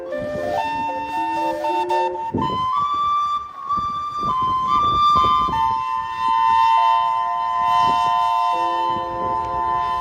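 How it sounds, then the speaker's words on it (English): A steamboat's steam calliope plays a loud, shrill melody of sustained whistling notes that glide between pitches, ringing out from a distance. "pianist who plays the steam pipes from on top of the roof of the steamship"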